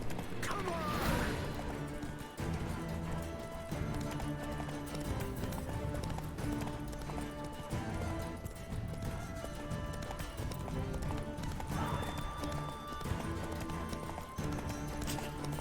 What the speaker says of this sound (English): Si andar a caballo es horrible